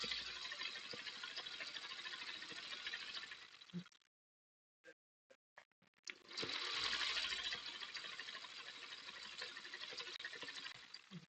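A sewing machine stitches steadily in two sustained runs, pausing briefly in the middle with a few short clicks and taps before resuming its loud, continuous whir.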